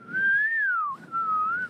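One person whistles two sustained, gliding notes, the first rising then falling, a short break, then a second wavering tone, clear and close with no talk.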